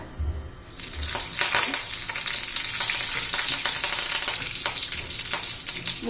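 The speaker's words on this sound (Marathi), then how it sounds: "जिरं मोहरी तडतडली का कढीपत्ता घालून घ्यायचा आहे आपल्याला" Curry leaves hit hot oil with cumin and mustard seeds, making a sudden loud crackle that settles into steady, vigorous sizzling and spitting close by.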